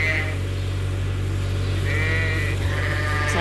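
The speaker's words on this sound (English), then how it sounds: "So I'm just going to pan around the pen so people can see the lambs" Lambs bleat in a sheep pen on a farm, several wavering calls spread across a steady loud hum of fans or machinery.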